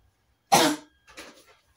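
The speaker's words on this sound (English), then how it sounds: "Bear with me if I'm coughing too much" One sharp, loud cough followed by a softer, rougher second cough, close up in an otherwise quiet room.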